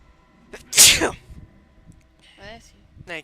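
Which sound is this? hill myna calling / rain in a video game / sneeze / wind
sneeze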